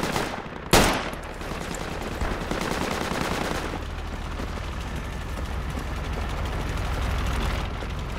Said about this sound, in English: Shoot those windows out.